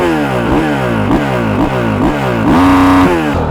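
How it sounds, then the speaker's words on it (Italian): A Honda CRF 450 dirt bike with its stock exhaust revving hard, loud and close, with repeated rising and falling throttle blips in a quick rhythm that end in a higher sustained rev near the finish. "Mi fermo un secondo per farvi sentire il sound di questa moto."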